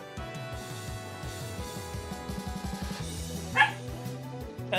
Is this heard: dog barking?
yes